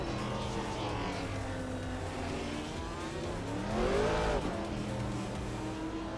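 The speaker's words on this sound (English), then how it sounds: "Hikori Hamzan is driving a 1966 Jaguar XJ13 Touran" A 1966 Jaguar XJ13 race car drives in a racing video game, its engine a steady moderately loud drone with overlapping revs from other cars and one nearer pass swelling midway.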